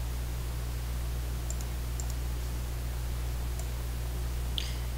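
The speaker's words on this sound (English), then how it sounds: "I've got no noise, uniform white noise, and Gaussian white noise." Broadband white noise from a LabVIEW signal generator: a constant, even hiss filling the clip at steady loudness, with a low hum beneath and a few faint clicks scattered through it.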